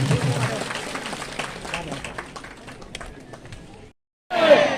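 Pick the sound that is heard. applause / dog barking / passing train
applause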